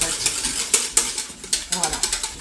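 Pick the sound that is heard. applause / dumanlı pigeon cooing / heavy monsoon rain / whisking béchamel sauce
whisking béchamel sauce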